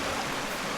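River water rushing steadily near falls in Siargao, a dense continuous roar of flowing water close by, with no other sounds over it.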